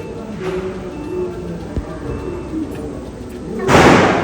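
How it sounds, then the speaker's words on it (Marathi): A few scattered pops over an outdoor hum during Diwali, then one loud firecracker burst with a sharp crackling blast near the end. "तू खाली फटाके फोडत होतीस"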